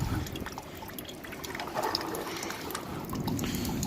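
Old green-tinted antifreeze coolant, flushed and carrying floating debris, drains from a car's cooling system in a steady, close trickle and splash of liquid that runs on without pause.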